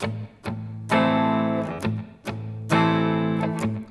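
Electric guitar through a Vox amp plays a distorted groove with double stops, strummed chords in a loose rhythm with short gaps, alone and close.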